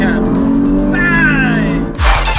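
A 981 Porsche Cayman GT4 engine revs hard in second gear, rising steadily in pitch and loud up close, then the note drops as a gearshift cuts in and a voice briefly speaks over it.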